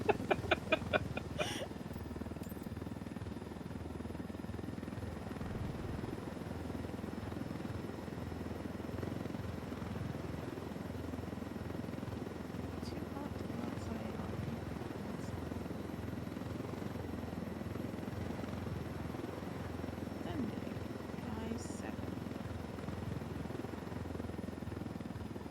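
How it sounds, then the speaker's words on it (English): Supply helicopters in a video game drone with a steady, continuous rotor rumble across the whole stretch, loud and unbroken, with a brief sharper burst at the very start and no talk over it. "Supply choppers to help cartel crushing rebels."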